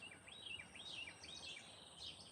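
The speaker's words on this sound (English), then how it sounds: "Those birds are loud." Several birds call in the morning after a night of rain, repeated rising and falling chirps that are fairly close and clear over a soft outdoor hiss, with no voices.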